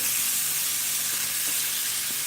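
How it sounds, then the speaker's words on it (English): Green pepper sizzles and fries in a hot pan while being stirred, a steady bright hiss with a few faint scraping stir sounds, no voices. "together with green pepper, I'm going to stir for some time"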